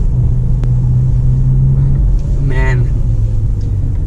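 Engine of a 2019 Lexus NX300 F-Sport while driving: a steady low rumble inside the cabin, with someone speaking briefly over it.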